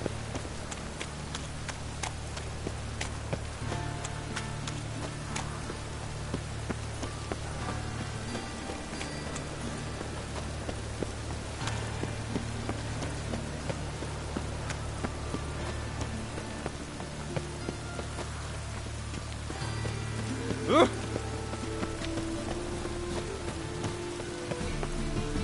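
Steady rain falls over a town in a PS4 video game, an even wash of patter with faint background ambience throughout, fairly quiet and uninterrupted.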